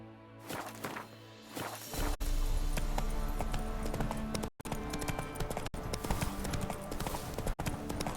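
A horse in The Witcher 3 clip-clops at a brisk, steady pace with continuous hoofbeats and a few sharp knocks, loud and close, over a game soundscape.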